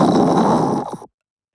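A monkey gives a short, loud, rough snore-like grunt, close and alone, lasting about a second before cutting to silence.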